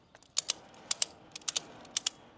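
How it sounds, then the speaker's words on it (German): A ratchet strap on a pickup camper is tightened with its ratchet, giving quick paired metallic clicks in several short bursts, close and fairly crisp. "und betätige meine Ratsche"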